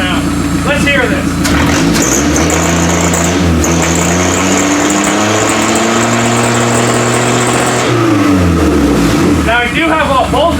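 A Toyota Camry demolition derby car's engine revs up close by, its pitch climbing and holding high for several seconds before dropping back to a rough idle, with someone talking over it at the start and end.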